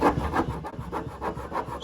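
Undercoating is scraped off the fender of a 1964 Chevrolet C10 truck, rhythmic rasping strokes repeating about every quarter second, close and steady with no speech.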